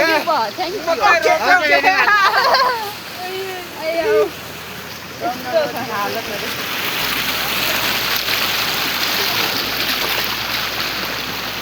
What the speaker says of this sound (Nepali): पानी त खतरा पऱ्यो है